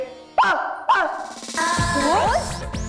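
A person imitates dog barks with two sharp yelping barks, then more voiced dog-like sounds mixed with talk, close and loud.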